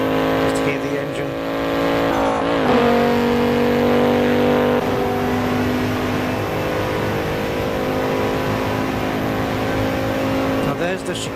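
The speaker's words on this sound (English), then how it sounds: "Just hear the engine." Race car engine from the Assetto Corsa EVO racing game, an all-wheel-drive car held flat out in fifth gear, droning loud and steady with a brief rev change early on, no talk.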